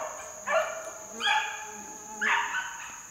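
Several dogs, hounds out on a hunting track in the wild, bark outdoors in three distinct bursts spaced about a second apart, moderately close, with a steady insect-like hiss in the background.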